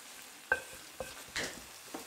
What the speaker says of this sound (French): Comme ça, on fait frire l'ail.